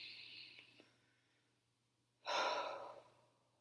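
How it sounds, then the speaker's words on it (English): A person takes a slow, deep breath, quiet and close: a soft airy breath first, then after a short pause a louder, fuller inhale that fades out gradually. "let's pause, deep breath."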